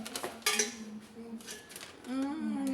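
Stainless steel casserole pot handled while unboxing a cookware set, with a few light metallic clinks and knocks at close range and brief ringing tones.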